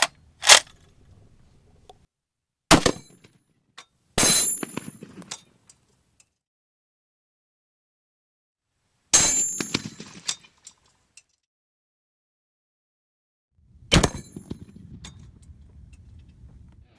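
Israeli API .50 caliber rounds striking a 2-inch titanium plate: several sharp, loud impact cracks spaced seconds apart, each followed by brief ringing and rattle, with silence between.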